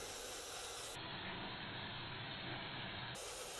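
Aerosol carburetor cleaner sprayed into the open butterfly throat of a Toro SR4 Super Recycler lawn mower carburetor: a steady, close hiss running without a break, strong through the middle of the spray.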